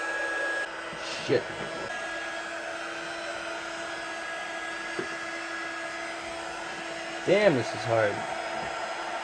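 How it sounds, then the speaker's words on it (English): A heat gun blows a steady whirring hiss of hot air onto the back of an Xbox to soften its adhesive, a constant drone in the background while a man briefly mutters and curses. "Just heating it up from the back now, hopefully gonna loosen up some of that adhesive they're using."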